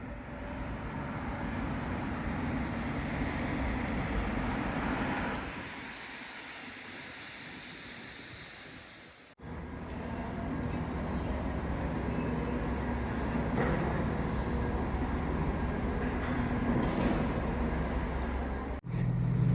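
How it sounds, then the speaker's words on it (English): Train pulling into a station platform, a steady broad rumble that fades low around the middle, then returns loud and continuous for the rest. "So it looks like my train has come in on time."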